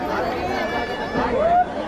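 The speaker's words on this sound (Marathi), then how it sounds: "गर्दी पण आहे थोडी आहे तशी" Dense crowd chatter fills a village temple fair for Shri Kalkai Devi and Padmavati Devi in Rukhi, with many overlapping voices close by and a steady murmur of conversation.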